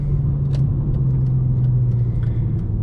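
A 2003 Mercedes C240 (W203) V6 hums steadily at low pitch in a tunnel with a window cracked open, a smooth continuous purr with faint road noise and a few light ticks above it.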